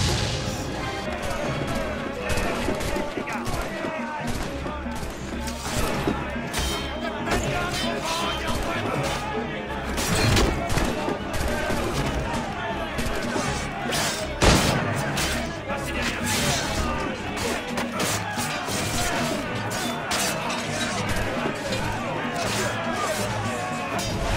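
Battle din from Assassin's Creed Freedom Cry, with dense crashes and bangs of gunfire and cannon under shouting voices and music, sharp louder hits landing around the middle.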